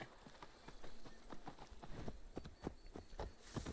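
Horse hooves clip-clopping in the Assassin's Creed Wrath of the Druids video game, a quick, irregular run of close thuds over a faint ambient bed, with no talk over them.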